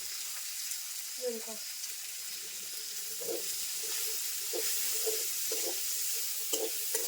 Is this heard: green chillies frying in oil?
yes